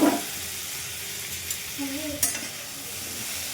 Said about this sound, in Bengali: হয়ে গেছে প্রায় ভাজা।